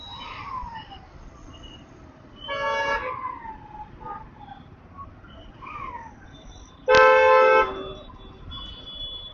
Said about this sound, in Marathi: कोणती तरी गाडी गेली का, मला तसा आवाज आला